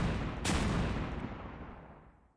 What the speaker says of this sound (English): Over on Main Street, confetti cannons went off.